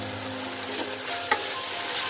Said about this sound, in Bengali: আমি তেলের ভিতর দিয়ে দিচ্ছি গোটা কিছু গরম মশলা আর অল্প একটু জিরা